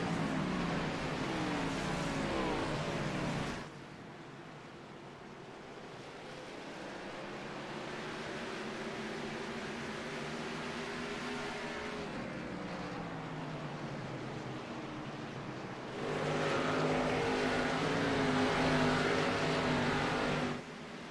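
Race cars in the Metro Ford Cup Series roar around Martinsville Speedway, a loud, continuous engine drone with rising and falling pitch sweeps as cars pass, swelling louder near the start and end.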